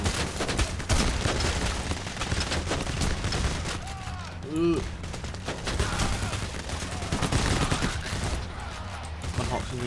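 Covering gunfire in the video game Payday, dense continuous rattling bursts of shots filling the scene with a voice talking over the din.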